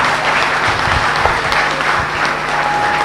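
An audience applauds a bishop with loud, dense, continuous clapping that holds steady throughout, with no one speaking over it.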